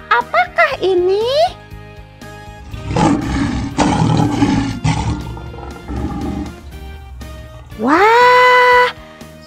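A tiger roaring loudly at close range, with deep rough roars in the middle, mixed with high gliding yowls and a long wailing call, with no talk over it.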